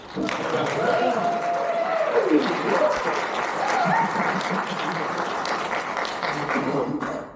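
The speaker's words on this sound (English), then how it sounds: "Yes, please cheer." A crowd at a game jam opening event cheers and applauds steadily, with whoops and voices mixed into the continuous clapping.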